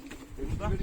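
Pigeons coo softly in a fancier's loft, low rolling calls rising in the second half, with people talking nearby.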